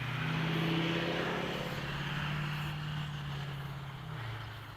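A Flyzone Cessna Corvalis RC plane drones overhead at half throttle at sunset, its electric motor and propeller holding a steady hum with a slight pitch drop near the end, close and continuous with no speech.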